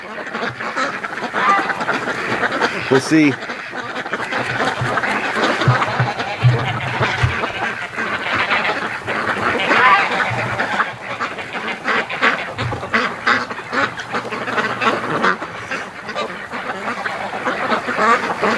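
Muscovy ducks fill the air with continuous, close, overlapping quacking and honking calls, and a person speaks briefly among them.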